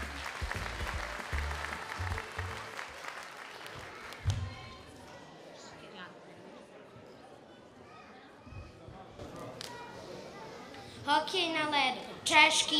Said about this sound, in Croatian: Molim aplauz podrške!